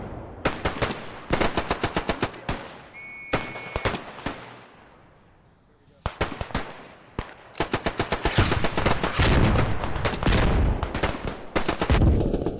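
Gunfire and heavy detonations crack and boom across a World War One battlefield in the game Beyond the Wire, with rapid bursts and single loud blasts that come near and loud, separated by a few decaying echoes.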